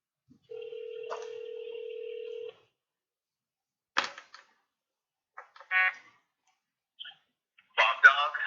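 Telephone call audio: a steady electronic phone tone holds for about two seconds. Then comes a pause, and voices speak in short bursts.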